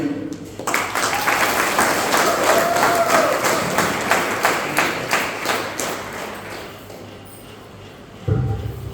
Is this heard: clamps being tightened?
no